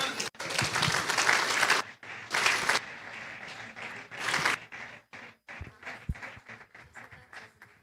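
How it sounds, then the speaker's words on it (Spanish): A church congregation at a Spanish-language service claps in bursts that rise and fade, loud at first, then thinning into scattered claps and taps. "Un aplauso al Señor."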